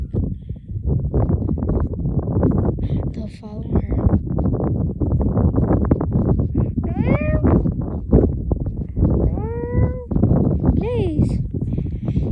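Kittens meowing at a ranch, several short high mews scattered through the second half, heard under continuous close talking and rustling wind noise.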